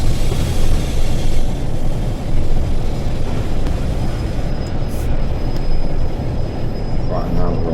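A Class 47 diesel locomotive in Train Sim World 5 brakes toward a stop, a loud continuous low rumble with a faint high whine near the end.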